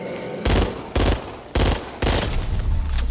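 Gunfire in the zombie shooter Back 4 Blood: four heavy, loud bursts of rapid automatic fire, each lasting about half a second, separated by brief gaps, with the last burst running on longer.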